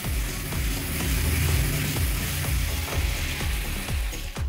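Brinjal sizzles in hot oil in a pan as it is stirred, a steady close frying hiss broken by regular scraping strokes of the spoon, with no talking.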